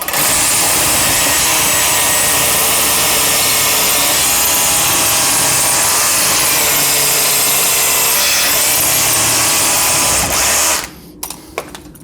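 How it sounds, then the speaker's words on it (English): A power drill whines steadily as it bores at an angle through wood for about ten seconds, loud and continuous, then stops abruptly with a few small clatters. "I'm going to drill through it at an angle"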